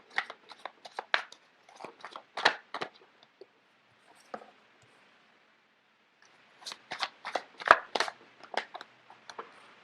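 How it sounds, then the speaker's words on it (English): Tarot cards handled and shuffled close by in a quiet room, with irregular bursts of crisp papery riffling and slapping, a pause near the middle, then another flurry of card shuffling. "let me just get the cards out first of all"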